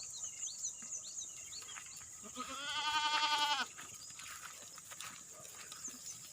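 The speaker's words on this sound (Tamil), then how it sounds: "நல்லா பெரிய பெரிய ஆடுகள் பயங்கரமான ஆடு" Kodi goats and their kids gathered for sale at an Ettayapuram market, with a burst of bleating from one animal rising loudly over a murmur of crowd noise before fading back.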